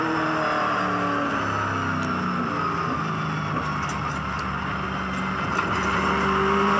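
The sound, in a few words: V8 Supercars race cars crossing the finish line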